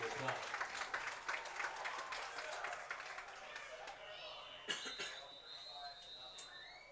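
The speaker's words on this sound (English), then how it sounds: "Auburndale Youth cheerleaders getting a big round of applause." A crowd in the stands at a youth football game applauds the Auburndale Youth cheerleading squad, scattered clapping heard fairly faintly behind an announcer's voice, then thinning out.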